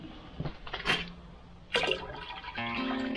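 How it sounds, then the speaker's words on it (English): Muriatic acid is poured from a gallon jug into a black water holding tank, giving splashing, gurgling liquid sounds in uneven bursts that settle into a steady trickle. "I dumped a good, almost half of this full jug, a gallon jug in"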